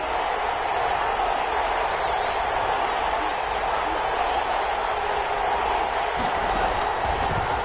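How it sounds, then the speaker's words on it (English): Stadium crowd noise in an American football video game on PS4 swells into a steady, loud roar of cheering ahead of a big third down, with a commentator talking over it throughout. "the crowd getting into it as we come up on a big third down"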